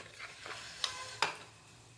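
Onion and ginger-garlic paste fries quietly in a pan for a gobi-matar bhaji, a soft close sizzle broken by two sharp scraping stirs.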